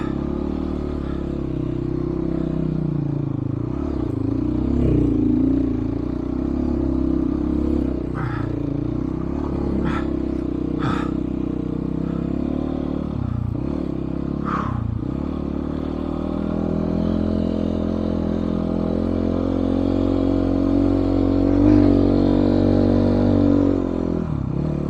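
A 2022 GPX FSE300R motorcycle being ridden, its engine droning steadily with shifting pitch as the rider works the throttle, joined by occasional clatters and scrapes, continuous and fairly loud throughout.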